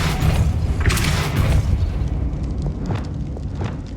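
Depulso force spell cast in the video game Hogwarts Legacy, a loud booming burst with rumbling low-end impact, followed by fainter magical whooshes and small hits in a cavern-like scene.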